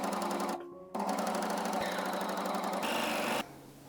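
A sewing machine runs nearby stitching the sides of a sparkly leotard, its fast, even whirring broken by brief pauses and changes in speed.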